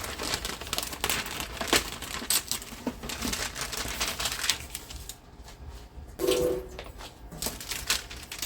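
Parchment paper laid out for raised donuts made from frozen dough is handled and crinkled in irregular bursts of rustling and crackling, close by with short quiet gaps and no talking.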